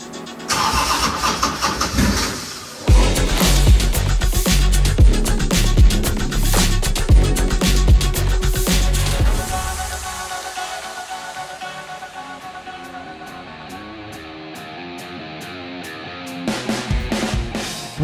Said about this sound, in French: je t'explique comment démarrer un 2JZ dans n'importe quelle voiture